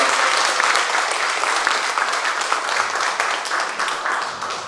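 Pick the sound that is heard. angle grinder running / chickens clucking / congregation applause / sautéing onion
congregation applause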